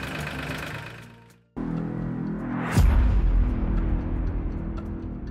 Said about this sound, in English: Start the engine and let it idle.